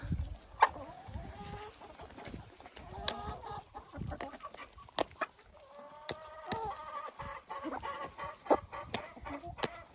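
Several hens cluck and chatter close by in an irregular stream, with occasional louder squawks and scratching noises.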